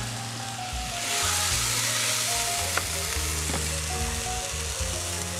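Chicken breast frying in a pan, a steady loud sizzle and crackle with faint stirring and occasional pops, no talking.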